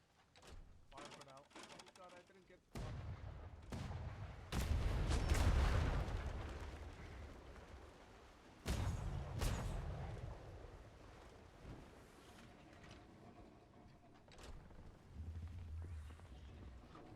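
Mortar fire in a naval video game: a few heavy booming blasts with long rumbling tails, spaced several seconds apart, under people talking throughout.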